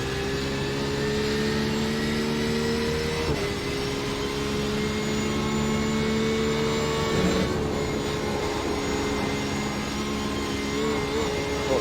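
Porsche 911 RSR in iRacing at Spa-Francorchamps, engine held at full throttle, a loud steady high-pitched drone with rising harmonics and a brief shift dip, running alone without talk.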